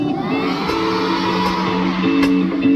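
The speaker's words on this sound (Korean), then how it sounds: "우리 애들 앵콜 잘 외치고 있어요" A large crowd at a K-pop concert chanting for an encore, a steady loud wall of massed voices and shouts filling the venue without pause.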